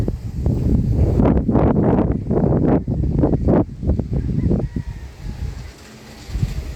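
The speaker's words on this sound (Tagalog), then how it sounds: "Malakas yung hangin ngayon mga idol." Strong wind buffets the microphone in loud, gusty rumbling bursts that ease off toward the end, outdoors where kites are being flown.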